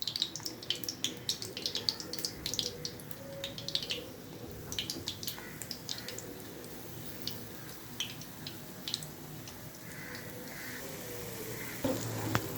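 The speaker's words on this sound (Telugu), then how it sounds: "నూనె మరిగిపోయిందండి, పకోడీలు వేసేసుకుందాం" Onion pakodi fry in hot oil in a kadai, giving off a steady bubbling sizzle and hiss. Occasional sharper crackles and light clatter sound close by.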